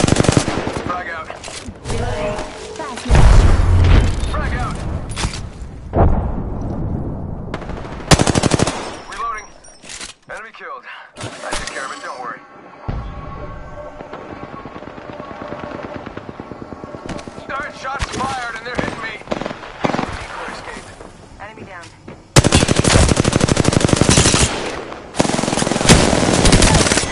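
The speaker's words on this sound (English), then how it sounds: "Throwing through my grenade. Firing." Rapid video-game gunfire bursts and grenade blasts come in loud repeated volleys, with quieter gaps between them and a final heavy barrage near the end.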